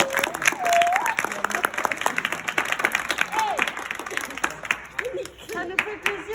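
Audience applauding at a gathering, a dense burst of clapping loud at first and thinning out toward the end, with voices talking over it.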